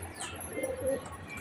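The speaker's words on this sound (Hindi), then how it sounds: "देखो कबूतर एक एक करके सारे कबूतर बाहर आ जाएंगे दोस्तों" Pigeons emerging one by one from their opened coop, with soft cooing, light chirps and a flutter of wings, faint and fairly close over outdoor background noise.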